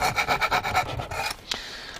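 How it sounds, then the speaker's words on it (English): A round file rasps back and forth in a small screw hole inside a car 8-track player, with about eight quick, even rubbing strokes up close, followed by a brief pause and a knock. "Let's try it with the round file first."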